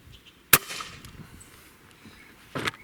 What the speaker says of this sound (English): So I'm going to take the first shot, obviously with our AEA here